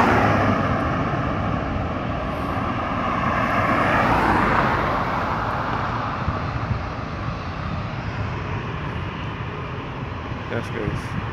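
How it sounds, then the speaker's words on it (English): Aircraft engine roar at Grantley Adams International Airport in Barbados, a loud steady jet rumble swelling and easing as a plane passes near, with wind buffeting and traffic noise beneath and a person talking over it. "You can see some of the planes coming in and out."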